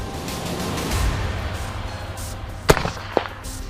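A .338 AirPua air rifle fires once at long range outdoors, giving a sharp, loud crack with a thump. A fainter echoing report follows about half a second later, over steady background noise.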